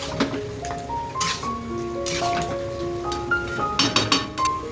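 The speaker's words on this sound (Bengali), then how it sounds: "মাটনটা আমি ভালো করে নাড়িয়ে নেব মশলার" Mutton stirred with spices in a pot, close clinks and scrapes of a utensil against metal in an uneven rhythm over a soft background hiss, no talk.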